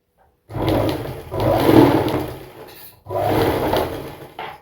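A sewing machine stitches a cross strip of fabric in two sustained, fairly loud bursts of motor whir, each about two seconds long, separated by a short pause.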